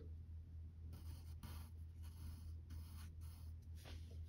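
Pencil drawing on paper for a step-by-step Green Lantern sketch, with faint scratchy strokes in short repeated bursts over a steady low hum and no talk.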